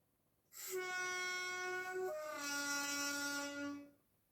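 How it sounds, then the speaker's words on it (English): A diesel locomotive horn sounds in a Christmas railway story, one sustained two-tone blast lasting about three seconds, loud and close, with no talking over it. "As old Stuckup began to fall asleep, he heard a horn."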